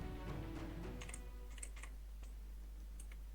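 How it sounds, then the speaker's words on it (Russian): Clicks from a loud, clicky computer keyboard come in a short, scattered burst of keystrokes, quiet and close under a steady low hum, with no talking. "Вот у меня потому что клавиатура жестко кликающая."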